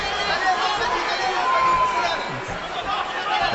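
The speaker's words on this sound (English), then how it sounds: "it's hard to hear when you've got a mob cheering" Brazilian fans at Khabib Nurmagomedov's fight against Gleison Tibau make a dense, roaring crowd murmur, steady and distant, with indistinct chatter and faint cheers rising within it.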